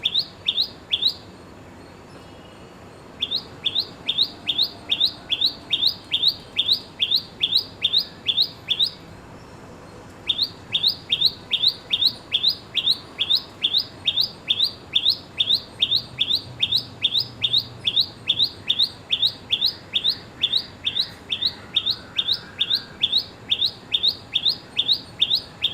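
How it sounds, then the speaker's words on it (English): A common tailorbird sings a rapid, sharp, repeated chirp in long rhythmic runs, broken by short pauses and carrying on tirelessly over a quiet morning background. "So we will listen to the common tailor bird, which you can find everywhere, even in the cities, in the small gardens."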